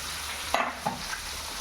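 White sardines, a river fish, fry in hot oil, giving a soft steady sizzle with two brief clatters of stirring partway through; no voices.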